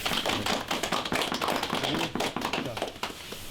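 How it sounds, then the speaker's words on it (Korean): A group claps for the winners of a military sniper training competition, a brisk burst of fairly close, uneven applause lasting a few seconds. "박수 한번"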